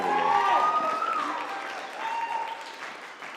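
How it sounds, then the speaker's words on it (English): A high school film festival audience gives a round of applause that starts loud, then slowly fades, with a few whoops rising over the clapping. "let's just give him another round of applause"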